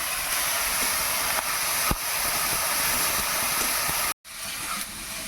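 Onion paste sizzling in hot oil in a pan, a steady loud hiss and crackle filling the whole stretch with a brief break near the end.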